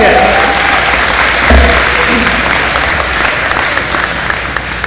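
An audience at a Jefferson High School scholarship and awards ceremony applauds a scholarship recipient with steady, continuous clapping, a brief thump partway through, and faint voices underneath.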